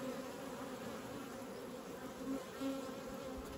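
A dense, steady buzzing of many honeybees in a hive fills the air up close, a continuous low drone with occasional individual bees rising briefly louder.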